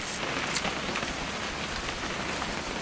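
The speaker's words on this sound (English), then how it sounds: "It's gonna rain the whole weekend," Steady rain falls in the game What Remains of Edith Finch, a dense, even hiss of drops on surfaces that holds at constant loudness throughout with no voices.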